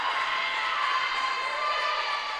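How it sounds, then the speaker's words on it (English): Crowd cheering and shouting in a gym in Olathe, Kansas, at a college volleyball match between the MNU Pioneers and St. Thomas, a steady loud roar of many voices with no break, filling the whole stretch. "Crowd fired up"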